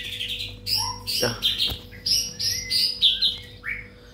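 A murai batu, or white-rumped shama, weak and unwell, gives rapid bright chirps and whistled phrases close by, over a faint steady hum, with a brief low thump midway and a voice speaking briefly.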